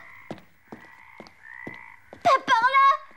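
A cartoon frog croaks in an animated series, giving several short rhythmic croaks alone, then a louder, harsher burst of croaking near the end.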